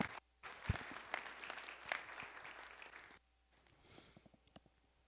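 An audience at a Kashmiri Hindu Exodus symposium in Toronto gives a round of applause, irregular clapping with sharp individual claps that stops abruptly, leaving a quieter stretch with a few scattered claps.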